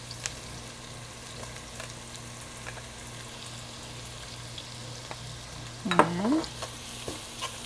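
Garlic and onions sautéing in oil for Batangas lomi broth, a soft steady sizzle under a low hum, with a brief louder scrape of stirring near the end and a single short spoken word.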